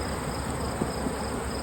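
Honey bees buzzing around single brood chamber hives during a honeyflow: a steady, close, even drone with faint higher whine, continuous and alone.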